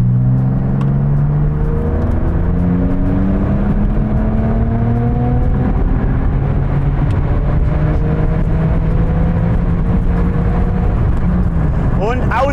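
A Porsche 991.2 Turbo S with a Stage 3 tune pulls hard in fourth gear on the autobahn on a hot day, engine note climbing steadily, loud and close from inside the cabin with wind roar.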